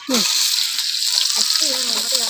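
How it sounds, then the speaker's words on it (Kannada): Onions drop into hot oil in a pan and sizzle loudly and steadily, a continuous bright frying hiss with small stirring clicks, close to the microphone and brief. "ಈಗ ನಾನು ಈರುಳ್ಳಿ ಹಾಕ್ತಿದ್ದೇನೆ."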